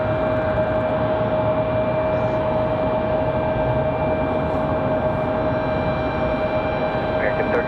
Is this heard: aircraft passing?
yes